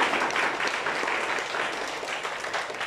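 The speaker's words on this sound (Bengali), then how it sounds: "আচ্ছা, একটা জোরে হাততালি দিবেন প্লিজ সবাই।" Loud, sustained applause from a large seated audience fills the room at a steady roar, many hands clapping together without pause.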